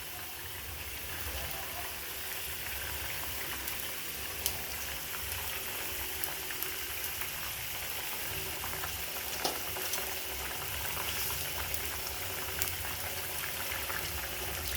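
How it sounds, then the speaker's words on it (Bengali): Fish curry gravy for rohu with potol and potato bubbles in a pan, making a soft, steady, low-level simmering hiss with faint pops and an occasional click. "ঝোলটা ফুটে উঠেছে।"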